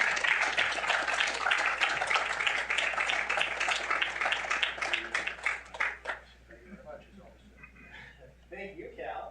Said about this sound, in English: Wild applause.